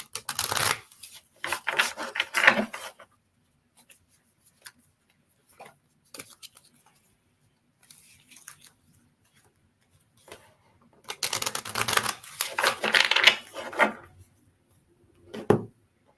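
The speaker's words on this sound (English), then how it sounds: "I'm going to give it a few shuffles here in a few moments" Riffle shuffles of a card deck come in several loud fluttering bursts separated by quiet pauses, with soft taps and card handling between.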